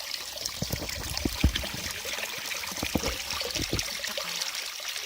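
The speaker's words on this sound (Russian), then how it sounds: "Сейчас тут будет набирать водичку." A small forest stream trickles and splashes while water is collected, with irregular gurgling drips and pours close by over a soft background hiss.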